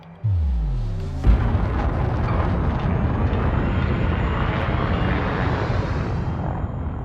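A spaceship boost start in the Elite Dangerous game, flying an Asp Explorer: a sudden loud roaring thrust surges in after a second of low engine hum and holds steady, dense and powerful, to the end.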